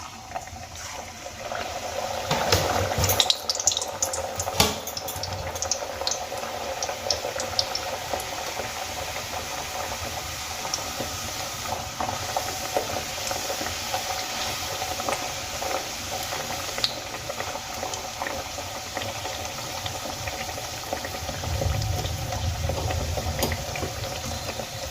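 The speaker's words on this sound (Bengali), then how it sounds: "এবার তেলের মধ্যে আমি বেলে রাখা কচুরিটা দিয়ে দেব।" A rolled kachori fries in hot oil with a dense, continuous bubbling and crackling hiss, close and fairly loud, holding steady and swelling slightly near the end, with no talking.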